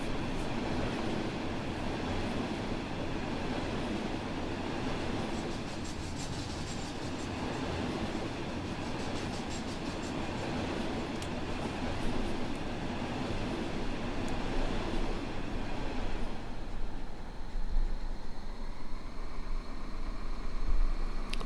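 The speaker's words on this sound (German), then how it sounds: "Zugbegegnung im Bahnhof Eutin." Two trains meet and pass at Eutin station in Train Simulator 2020 on the Kiel line, one a regional train bound for Lübeck. Steady rumbling rolling noise with wheel clatter runs throughout and grows louder toward the end. No one talks.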